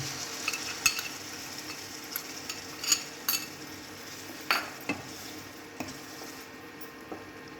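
Yogurt spice masala stirred into egg curry in a pan, with a quiet sizzle and a series of irregular spoon scrapes and clinks against the metal, close by and with no talk.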